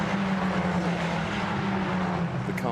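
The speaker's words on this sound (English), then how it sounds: "Cars sound absolutely awesome here" Ferrari Challenge race cars lapping Misano circuit, a steady loud engine drone with a strong sustained tone and a rising whine near the end as a car passes, no voices over it.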